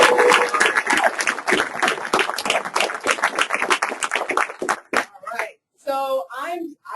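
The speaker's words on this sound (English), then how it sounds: "please give a big round of applause for my beautiful partner" An audience bursts into loud, dense applause, with voices cheering over it, then the clapping thins into a few scattered claps and speech.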